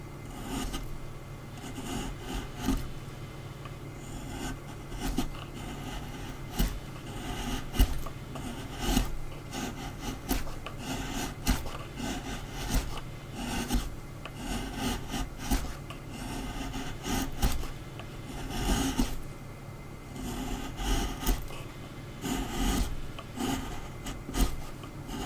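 A hand tool carving a wooden dragon, making continuous rasping and scraping strokes against the wood in an uneven, steady rhythm, close and moderately loud, with no voices.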